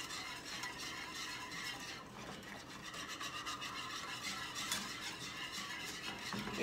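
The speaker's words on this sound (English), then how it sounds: "So we're whisking until it comes to a boil." Lemon meringue pie filling is whisked in a pot as it heats toward a boil, a continuous close scraping, rasping stir with steady rhythm and no talking.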